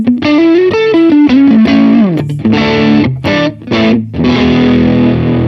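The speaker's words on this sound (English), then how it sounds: "it still sounds like distortion, right?" An electric guitar played through heavy fuzz distortion on a Vox AC30 amp plugin picks out a loud, buzzy melodic line with sliding notes and short gaps.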